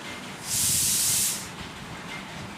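A pressure cooker whistle on a home kitchen stove, one loud sustained hiss of escaping steam lasting about a second before fading, heard nearby without talk.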